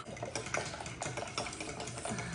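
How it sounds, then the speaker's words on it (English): A fork whisks four eggs in a bowl, producing rapid continuous clicking and tapping against the bowl with a steady busy rhythm, fairly close and moderately loud. "we're whisking our 4 eggs with a fork."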